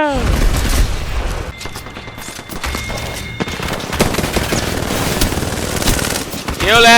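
Rapid automatic gunfire in the video game Apex Legends, dense sustained bursts and loud booms filling the whole stretch, with players talking over the shooting.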